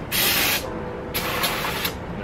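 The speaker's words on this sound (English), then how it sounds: "Go ahead and spray this with brake cleaner." Aerosol brake cleaner hisses onto the bolt holes of a Chevy/GMC truck valve cover area on a 4.8, 5.3 or 6.0 engine, in two close bursts, a short one then a longer one.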